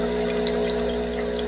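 A Breville Barista Pro espresso machine mid-descale cycle, its pump droning a steady tonal hum while water runs through the group head and shower screen, close and continuous with no talk.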